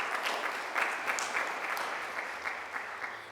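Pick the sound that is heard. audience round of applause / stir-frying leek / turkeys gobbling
audience round of applause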